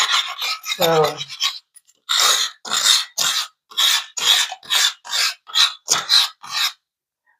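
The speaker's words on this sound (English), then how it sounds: "where I could scrub down that calcium buildup" Rough back-and-forth scrubbing at calcium buildup on an old sink and tub, about a dozen rasping strokes in an even rhythm, close and fairly loud, with a brief spoken word near the start.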